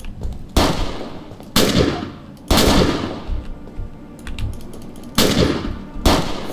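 Shotgun fire in the zombie video game Fort Zombie, five loud, close blasts spaced about a second apart, each with a sharp crack and a decaying tail, with no talk.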